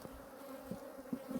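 Honey bees hum in a faint, steady drone at a caught swarm, with a few slightly louder passes of individual bees close by.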